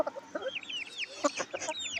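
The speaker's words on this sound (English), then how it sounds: "I get attacked by a chicken who thinks they want a taste of my leg instead of me having a taste of theirs" Chickens cluck steadily on a farm in Bulgaria, with a run of close, varied clucks and squawks, plus fainter bird chirps in the background.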